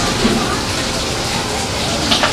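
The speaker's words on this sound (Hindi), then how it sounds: "ये देख सकते हो बारिश आ रही है सामने" Steady rain pouring down outdoors in India, a continuous broadband hiss of falling water that stays close and fairly loud throughout with no pauses.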